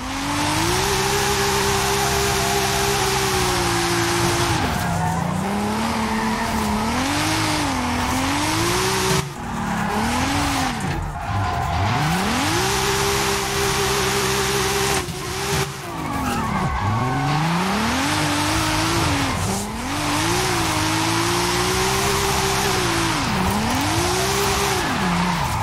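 A Lexus SC300 drifts sideways in Forza Horizon 5, its engine revving loud and wavering as the tires squeal in long continuous slides, with the pitch swooping up and down through repeated turns for the whole stretch.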